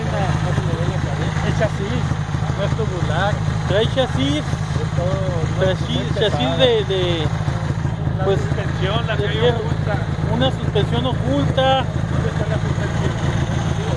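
A vintage Honda motorcycle, the first Honda with electric start, idles at a retro bikers' gathering in a plaza in Hermosillo, Sonora, giving a steady low engine rumble that runs throughout under close, continuous conversation.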